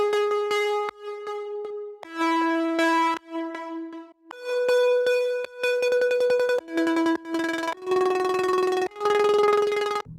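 Eleven bright synth pluck notes from FL Studio, with the LFO rate turned down, follow one another in a steady melodic sequence. Each note is held and fades slightly before the next one starts.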